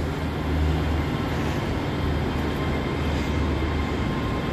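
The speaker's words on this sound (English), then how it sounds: "I did hear a train." A train passes at a station in the Pollokshaws West area near Glasgow, producing a steady, loud low rumble that holds throughout with no voices.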